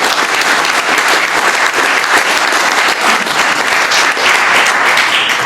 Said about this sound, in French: Les gens l'applaudissent.